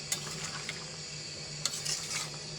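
Whole spices (garam masala, cardamom and cinnamon) are stirred in a cooking pan. The result is a soft, quiet scraping and shuffling with a few light clinks, over a faint low hum and with no talking.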